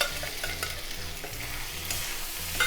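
Fried colocasia being stirred into a tomato and onion gravy in a pan, with a spoon scraping rhythmically through thick sizzling sauce for a few seconds, close and fairly quiet, with no voices.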